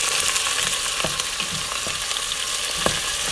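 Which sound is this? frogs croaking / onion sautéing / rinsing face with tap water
onion sautéing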